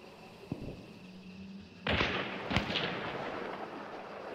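Gunfire in a video game, a few sharp distant shots and booming reports spaced apart over a low background rumble.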